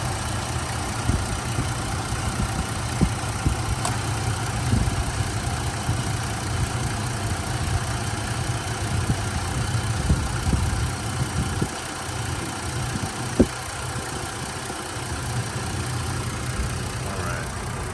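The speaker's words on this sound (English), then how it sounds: "Take a listen to the engine here." A 2009 Jeep Liberty Limited 4x4 engine with 127,000 miles and a new serpentine belt idles steadily with a low, even rumble throughout, a few faint clicks and knocks riding on top.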